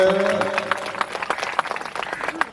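A crowd claps during a Bhagwat Katha religious discourse, with a burst of dense, close applause that thins into scattered claps after a voice at the start.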